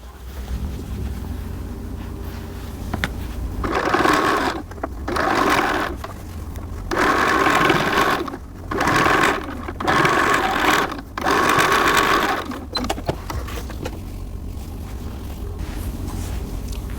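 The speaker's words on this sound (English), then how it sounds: "then you will finish sewing the hem of your ruffle" A sewing machine stitches doll dress seams in several bursts of steady, fairly loud whirring separated by short pauses, with no talking.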